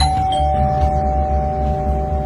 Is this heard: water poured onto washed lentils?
no